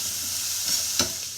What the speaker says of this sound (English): we're sauteing the hard vegetables